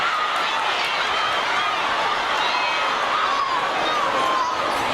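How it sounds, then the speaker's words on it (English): A high school basketball crowd at a Dothan High versus Northview game keeps up a loud, dense roar of cheering throughout, with a commentator's voice over it. "Boy, this crowd has come alive."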